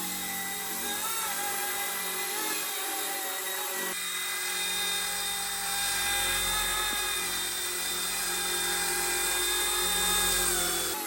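A Rage RC Hero-Copter mini helicopter hovers nearby with a steady high-pitched electric whine and buzzing rotor, shifting slightly in pitch and loudness.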